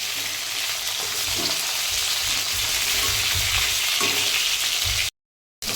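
Fish from the fridge sizzles loudly and continuously in hot oil in a pan, a dense crackling hiss close up, cutting off briefly near the end.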